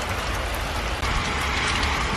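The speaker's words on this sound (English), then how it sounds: "We are finally getting rain" Rain falling on a front yard garden in Dallas, Texas, a steady, close patter of many drops hitting surfaces, even and unbroken apart from one brief dip, with no talk.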